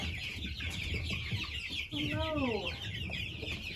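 Chickens cluck close by with a steady background of chatter from the flock. One bird gives a rising, drawn-out call midway, and a person briefly speaks a greeting over the sounds.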